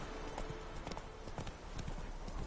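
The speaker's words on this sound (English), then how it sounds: "my horse is going up the stairs" Quick hollow hoofbeats clatter in an uneven rhythm as a horse climbs stairs in the video game The Witcher 3: Wild Hunt, fairly faint and without talk.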